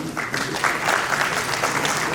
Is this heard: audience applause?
yes